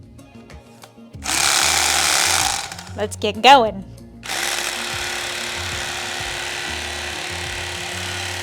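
An electric carving knife buzzes loudly as it cuts through foam for a costume dragon leg, running steadily in two long bursts with a brief spoken pause between them.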